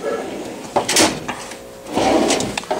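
A Snap-on tool box drawer slides open or shut, with two distinct metallic runs of the slide about a second apart, close and fairly loud with no talk.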